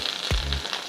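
Salmon pan-searing in olive oil, a continuous hiss and sizzle broken by a few short scraping or tapping sounds from the pan.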